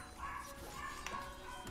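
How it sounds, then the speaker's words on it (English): A dog barks and yips in a room near a gamer playing League of Legends, short moderate barks mixed with whimpers over faint background. "Sorry for the dog, by the way. I don't know why he's barking so much."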